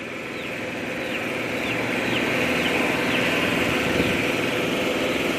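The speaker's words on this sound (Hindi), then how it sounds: "पीछे जनरेटर चल रहा है" A generator's steady engine drone hums continuously in the background, a low, even running sound with no voices over it.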